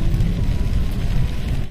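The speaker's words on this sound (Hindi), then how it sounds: "बारिश भी पूरा मस्त गिर रहा है बारिश" Steady rain falls during a drive on the road from Baithalangso to Umlapher in the rainy season, a dense, even hiss with a low rumble underneath, close and constant with no talk.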